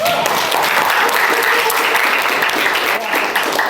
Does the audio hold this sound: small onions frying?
no